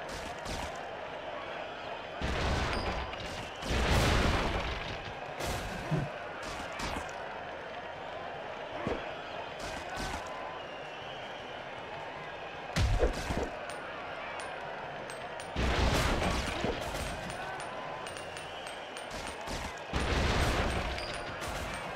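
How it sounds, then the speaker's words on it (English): Fireworks fire in a Kung Fu Panda video game to launch a flying chair, heard as several loud, broad bursts and bangs spaced irregularly over a continuous background of game sound. "I need about 10 fireworks to make the chair fly."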